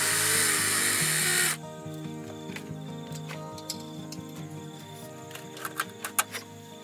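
A power tool whirs loudly for about a second and a half while undoing a bolt on a diesel heater. It then stops, and a low hum continues with scattered small clicks and taps.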